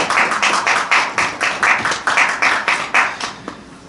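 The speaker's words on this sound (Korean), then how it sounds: "박수 한번 크게 한번 하려면 크게 하죠" Congregation in a church clapping loudly for a church vocal ensemble after their hymn, a steady run of about a dozen sharp, evenly spaced hand claps close by, with no talking over them.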